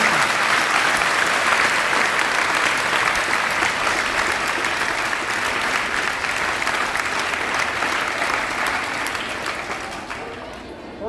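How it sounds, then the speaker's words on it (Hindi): Loud, sustained applause from a large crowd at a public gathering, a dense wall of clapping that holds steady for several seconds before tapering off near the end. "जोरदार तालियां।"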